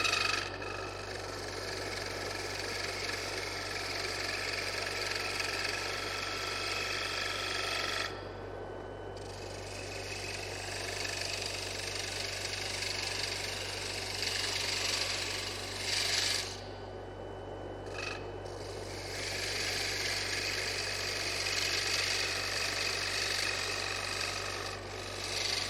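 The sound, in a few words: woodturning tool bevel rubbing on wood while turning a box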